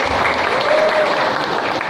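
A crowd in a village setting breaks into applause, a brief, loud, continuous wash of clapping with a faint tonal whistle briefly cutting through the middle.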